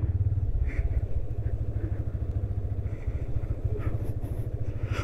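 A vehicle on a road trip, running with brakes that feel tight: a steady, rapidly pulsing engine drone sounds close and loud throughout, with faint clatter above it and no voices.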